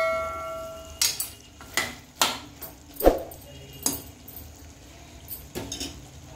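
Mutton is stirred in a frying pan for a Telugu-style gravy, with a metal spoon scraping and clinking against the pan in irregular, distinct knocks over a quiet background.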